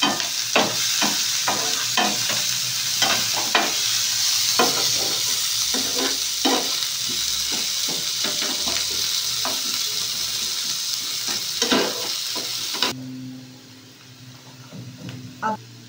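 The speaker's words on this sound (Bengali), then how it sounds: "পেঁয়াজটা দিয়েছি, এবার নেড়ে দেবো আমি।" Chopped onion frying in oil with cumin seeds in a pan for a prawn dish, stirred with rhythmic spatula scrapes over a loud, continuous sizzle, until the sizzle drops away sharply near the end.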